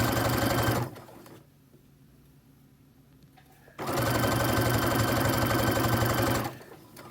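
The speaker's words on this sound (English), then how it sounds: "And you're just going to keep stitching, keep stitching." A sewing machine stitching a scrunchie runs in two loud, fast, steady bursts of needle chatter, separated by a few seconds of near silence, close to the microphone.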